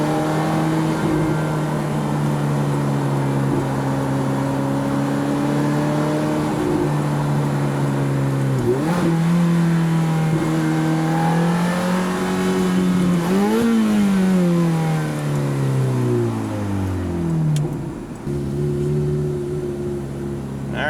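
A 2005 Ferrari F430 Spider accelerating hard, its engine revving up through climbing pitch sweeps with brief dips between gears, loud and close from inside the car, no voices.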